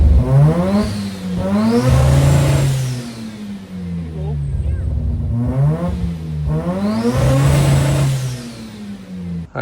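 Rotary-swapped Datsun 1200 with added boost revving hard up to its rev limiter twice, each climb rising and then holding at the cut, with a quieter idle gap between and people talking over it.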